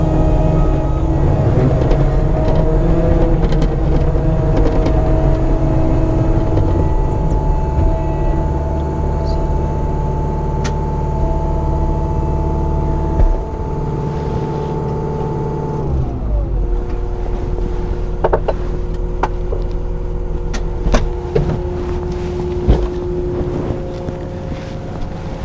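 A Caterpillar 285 compact track loader with a redesigned undercarriage and suspension drones steadily up close, running at raised RPM as it travels over offsets, with a constant low engine hum and wind buffeting that shifts in pitch midway through.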